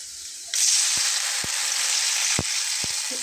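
A little water hits whole cumin and spices frying in a pan for a Bengali small-fish curry, bursting into a loud, steady hiss with a few sharp spoon taps on the pan.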